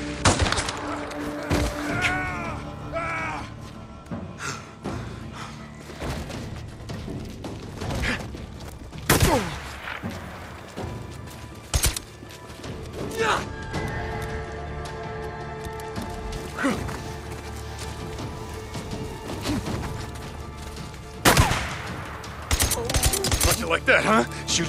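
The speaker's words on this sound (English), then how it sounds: "Sniper ambush, oh goddammit." Sniper ambush gunfire in the video game Days Gone, sharp shots and bursts cracking at irregular intervals over a busy game soundscape, with a player's voice talking between them.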